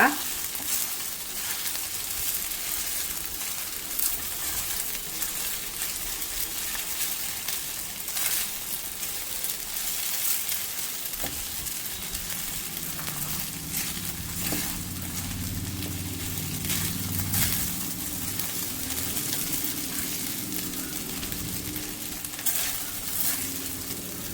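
Sabudana upma, a fasting dish of soaked tapioca pearls, sizzles and fries steadily in a pan over a low flame while a spoon scrapes and stirs it in an irregular rhythm, close and unbroken for the whole stretch.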